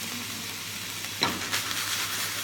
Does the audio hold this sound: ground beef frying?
yes